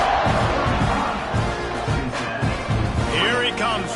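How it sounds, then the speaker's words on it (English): A football stadium crowd buzzes and murmurs after a score in a Texas A&M versus Cincinnati game, a steady dense roar with a commentator talking over it. "this crowd is buzzing after that last score"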